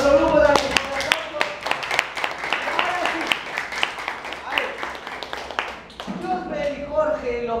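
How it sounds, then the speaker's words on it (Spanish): An audience at a school debate claps loudly and steadily for several seconds as a group is applauded. Voices talk and call out over and under the clapping. "Un fuerte aplauso para el otro grupo también."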